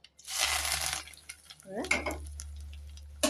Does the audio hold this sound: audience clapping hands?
no